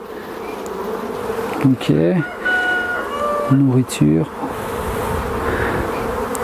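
Honeybees buzzing at a hive during a spring inspection: a steady, dense drone fills the clip, with a few louder close wingbeat swells and a brief spoken word over it.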